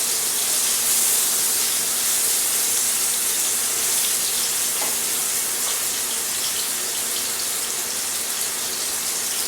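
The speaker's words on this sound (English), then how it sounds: "You're just literally caramelising them like this" Apples caramelising in a frying pan with pork and leeks give a steady, bright broadband hiss of frying that continues evenly throughout, close and unbroken, with no voices.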